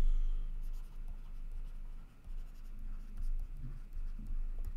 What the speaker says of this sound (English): let's write down some of our parameters.